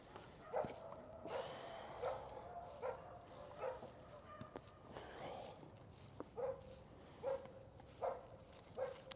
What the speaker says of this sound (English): My dog, when she's barking at a bird.